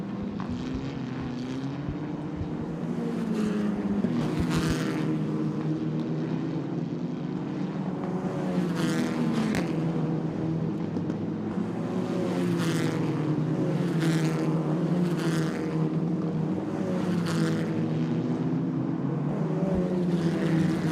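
Race cars at Mondello Park heading down into the first corner, a sustained engine roar with several cars passing close in bursts, loud and continuous without talk.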